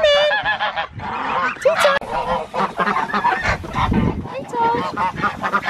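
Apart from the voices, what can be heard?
ducks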